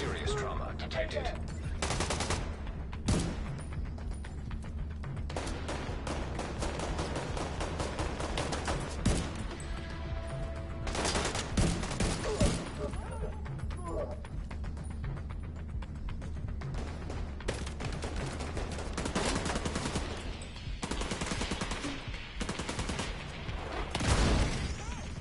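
Continuous rapid gunfire and bursts from The Division 2 on PS4 fill the scene, dense and loud throughout with occasional heavier impacts, while a voice talks intermittently over it.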